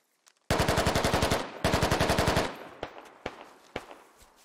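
Rapid automatic gunfire in the tactical shooter Squad: two long bursts of machine-gun fire, loud and close, followed by scattered single shots trailing off in the distance.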